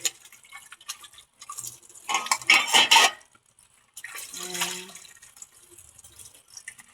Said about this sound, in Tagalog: Dito na naman tayo ulit balik sa hugas plato